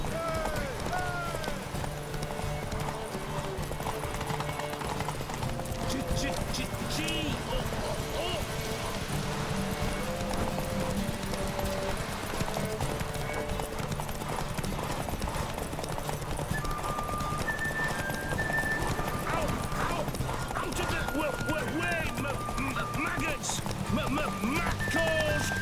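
Hooves of Roach, Geralt's horse in The Witcher 3: Wild Hunt, clip-clop in a steady gallop rhythm under game music, with occasional whinnies and characters talking over the top.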